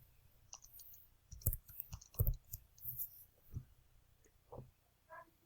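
Typing on a computer keyboard, a close, quiet run of irregular key clicks and taps bunched in short bursts, with brief pauses between them and no voices.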